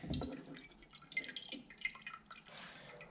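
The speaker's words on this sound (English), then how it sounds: "Let it drain for a little while to get most fuel out of it." Fuel draining from the lifted fuel filter of a 2016 Skoda Octavia vRS, heard as soft, irregular liquid drips and trickles close by, quiet and with no talking.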